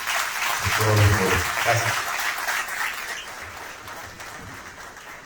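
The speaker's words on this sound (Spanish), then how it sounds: "Un aplauso, por favor, para Tomás y Carlos" Audience applause closing a conference session on gambling taxation in Latin America, steady clapping that peaks early and tapers gradually, with a brief spoken word of thanks near the start.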